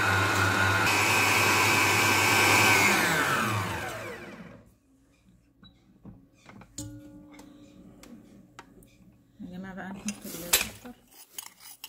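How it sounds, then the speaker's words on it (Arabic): An electric mixer whirs loudly as it beats eggs for an orange cake, running steadily for about four seconds before winding down. Scattered clinks of bowl and utensils follow. "هنضرب بقى البيض"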